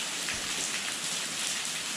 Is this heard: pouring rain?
yes